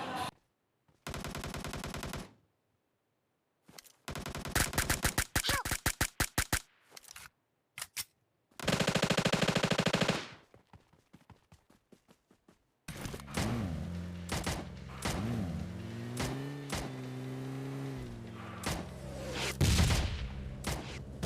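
M4 rifle fire in a battle royale video game comes in several loud, rapid automatic bursts separated by short pauses, followed by denser mixed game sounds and shots.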